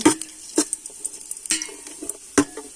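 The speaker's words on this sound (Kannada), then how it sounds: "ಹಾಗೆಯೇ ಒಣ ದ್ರಾಕ್ಷಿಯನ್ನು ಹಾಕಿಕೊಳ್ತೇನೆ. ಈಗ ಇದನ್ನು ಹುರಿದುಕೊಳ್ಬೇಕು." Raisins roasting in a pan while being stirred, with a faint sizzle under a few sharp scraping and clinking strokes of a spoon against the metal pan, close by and with no talk.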